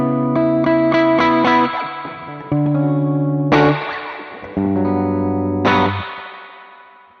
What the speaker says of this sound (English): Now let's check out the Big Sky, which I'm actually using an impulse response